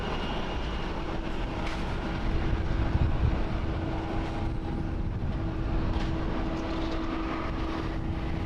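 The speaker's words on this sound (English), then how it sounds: "Star Flyer Flight 78 coming in from KKJ. It's a 1 hour and 16-minute flight aboard an Airbus" An Airbus airliner on its arrival at Haneda Airport in Tokyo, a steady broadband jet roar with a constant engine hum that holds at a moderate, even level throughout, with no voices.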